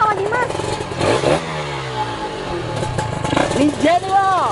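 A Ninja motorcycle engine revs and surges up and down, loud and close, with voices talking over parts of it.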